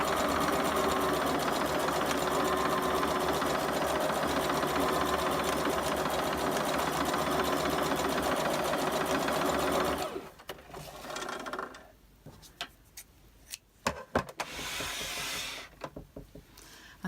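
A sewing machine runs straight stitches through fabric for a journal craft project, a steady rapid whir for about ten seconds, then stops with a few clicks and a quieter stretch of noise.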